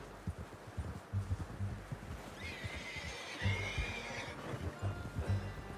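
A horse whinnies in Red Dead Redemption 2, a drawn-out neigh rising over steady clip-clop hooves and light wind, fairly close and loud, with no talking.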